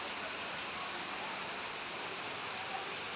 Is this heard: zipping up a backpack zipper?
no